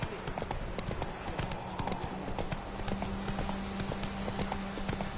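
A horse's hooves clip-clop at a steady walking rhythm on a road in the video game The Witcher 3, with even repeated hoof strikes over a constant ambient game background.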